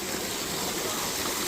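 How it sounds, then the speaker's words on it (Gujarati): A mountain spring stream in the Girnar forest flows in a dense, even rush of water, close and continuous, with no voices. "આ પાણીનું ઝરણું જે છે ને અહીંયાથી બધા પાણી પી શકે છે"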